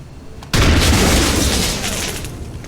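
A single loud weapon shot in XCOM on Xbox One, a sudden sharp blast followed by a rumbling tail that slowly fades.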